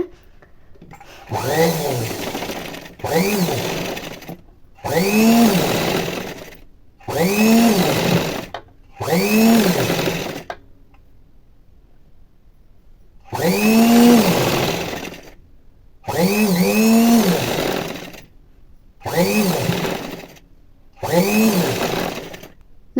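Sewing machine stitching piping onto a plain blouse runs in nine separate bursts, each one to two seconds long, with short quiet pauses between them and one longer pause midway. The steady motor whir sounds close by.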